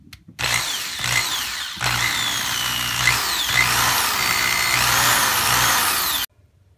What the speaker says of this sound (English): and drill out the posts.